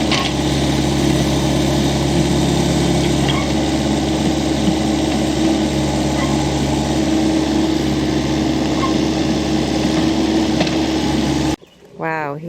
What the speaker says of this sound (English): while he's got this excavator, he's going to be doing some landscaping